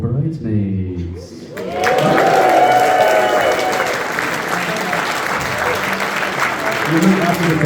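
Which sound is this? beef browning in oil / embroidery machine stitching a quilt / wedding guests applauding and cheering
wedding guests applauding and cheering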